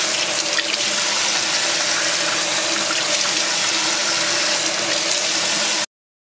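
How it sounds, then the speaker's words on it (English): Cold tap water runs steadily over mushrooms being rinsed in a sink, a continuous close splashing stream that holds for about six seconds and then cuts off abruptly. "It's best to soak the mushroom under cold water first and then try to rub them one by one to clean them up thoroughly."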